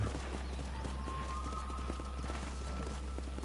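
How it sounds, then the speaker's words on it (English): Rhythmic clip-clop of horse hooves in Red Dead Redemption over a constant low rumble, with a faint whinny-like tone partway through. "Control that horse"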